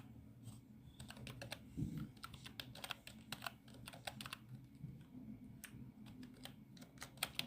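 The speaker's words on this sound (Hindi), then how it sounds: "ये मैंने मेल आईडी टाइप कर दी है" An email address being typed on a computer keyboard, a quiet close run of irregular key clicks in short bursts with small pauses.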